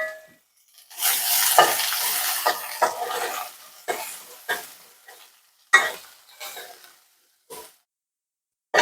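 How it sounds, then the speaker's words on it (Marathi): Onion sautéing in hot oil with crackling cumin seeds and curry leaves, a steady close sizzle broken by bursts of stirring and scraping, loudest in the first seconds, then fading into short spurts. "जिरे तडतडले की त्यामध्ये हा कांदा"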